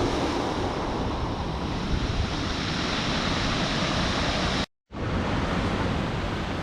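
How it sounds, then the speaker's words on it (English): Big waves roll in on a rocky Scottish shore, a constant loud wash of surf dragging pebbles, with heavy wind noise and a brief drop to silence near the end. "just check the way these waves just roll in. You can hear them rolling the pebbles around as the tide pulls them in and out."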